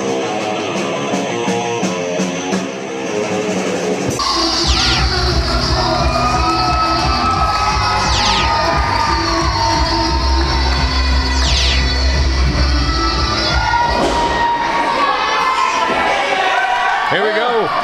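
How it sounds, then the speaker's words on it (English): A crowd roars and cheers at a wrestling event as the main event begins, a loud sustained din with deep thumping and shouts mixed in. "There's no doubt who the crowd's cheering for in this one"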